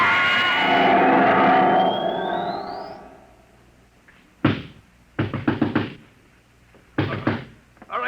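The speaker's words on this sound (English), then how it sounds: "He'll break down the door in a minute." Radio-drama pounding on a door comes after a fading whooshing swell. Several heavy knock bursts follow in separate groups of rapid thumps, loud and close, with no voices.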